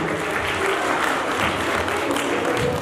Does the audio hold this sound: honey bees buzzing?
no